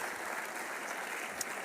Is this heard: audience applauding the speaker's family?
yes